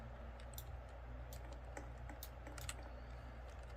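Fingers tap quickly on a computer keyboard that is acting up, a faint, irregular patter of crisp clicks with no talking.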